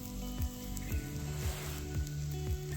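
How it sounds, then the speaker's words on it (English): Squirrel meat sizzles over charcoal, a soft continuous crackle and hiss heard close and quiet, with low tonal sounds sweeping down at regular intervals beneath it. "Sizzling."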